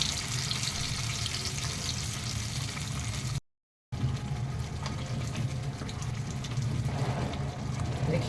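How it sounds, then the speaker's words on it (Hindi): Tomatoes frying with onions in a pan for a dum aloo curry, a steady crackling sizzle throughout, briefly cut by a short gap of silence, then resuming at similar volume. "टमाटर जब हम भूनते हैं प्याज के साथ में तो बहुत उछलता है"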